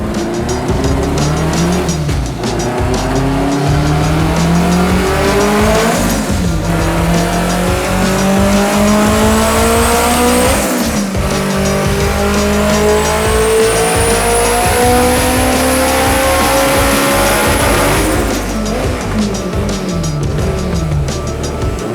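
A race car engine revs hard and loud through repeated rising sweeps on a dyno pull, climbing, dropping and climbing again in a long sustained run with no talk.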